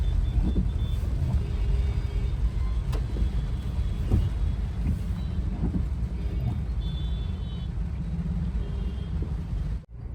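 Traffic sits jammed on a bridge in the rain, heard as a continuous low rumble of idling and creeping vehicles with a constant wash of rainfall and a few faint knocks, steady throughout.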